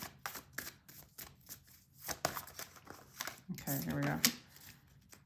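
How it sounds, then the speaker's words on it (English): Tarot cards are shuffled by hand in quick, crisp riffling bursts close to the microphone, building to a denser flurry near the end while a person speaks briefly over them. "Let me just do a shuffle here."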